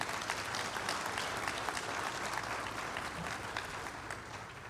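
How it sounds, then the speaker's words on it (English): Steady, dense audience applause at a conference partnership showcase session, loud and continuous throughout and tapering only slightly near the end, with no voices over it. "Let's give them one more round of applause."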